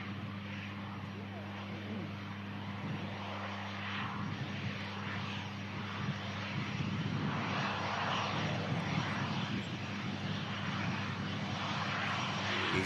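An airliner finishes its landing roll with reverse thrust being retracted before turning off onto a rapid exit taxiway, a broad distant jet roar with a steady low hum beneath, heard faintly and continuously outdoors.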